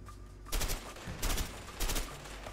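Rapid bursts of gunfire in the video game A Way Out, three loud volleys about a second apart over a steady hum of game background, with no talking.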